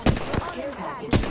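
Triple Take rifle fire in Apex Legends, with two sharp loud shots and a third about a second later, each a broad burst against a low background of game ambience.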